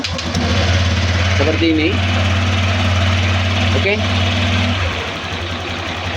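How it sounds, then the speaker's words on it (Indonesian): A Honda or Yamaha motorcycle engine idles steadily with a low, even drone for several seconds and then dies away. Someone speaks briefly over it. "kita hidupkan si motor"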